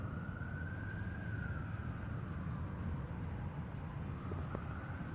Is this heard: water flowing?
no